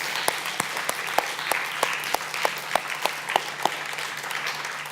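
A church congregation applauds with a dense, continuous wash of clapping, some sharp louder claps standing out at a steady rhythm close by.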